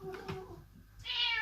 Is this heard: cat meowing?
yes